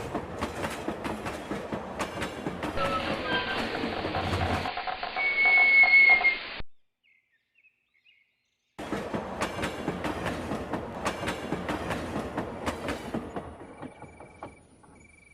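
A cartoon-style train pulls into a village station at night with rumbling wheels and clattering cars, a brief whistle in the middle, then a moment of silence before the rolling clatter resumes and fades.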